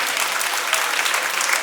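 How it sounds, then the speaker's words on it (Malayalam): Dense audience applause fills a church hall at a Sunday School anniversary event, a steady close wash of clapping from many hands with no pauses. "അദ്ദേഹത്തിന് ഒരു നല്ല കൈയടി കൊടുക്കുന്നു."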